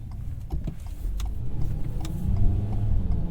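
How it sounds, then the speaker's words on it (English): A 2022 Ford Maverick's 2.0-liter inline-four, front-wheel drive, accelerating from inside the cabin, a steady mid-low engine drone with road rumble that builds gradually, plus a few light clicks. "sound coming from that 2-liter inline 4"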